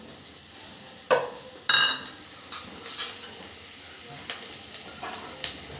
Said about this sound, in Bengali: এবার আমি কেটে রাখা আলুগুলো তেলের মধ্যে দিয়ে দেবো